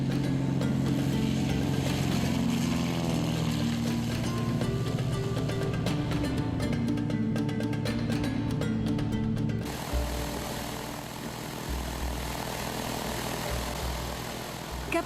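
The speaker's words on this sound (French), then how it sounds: "À l'heure du décollage, la manœuvre est périlleuse. Cette piste de sable est la même qu'à l'époque des pionniers et elle est particulièrement courte." Small propeller aircraft taking off from a short sand runway on a historic rally route in Senegal, its engine a steady, loud drone that shifts in pitch partway through, with music-like tonal bands layered over it.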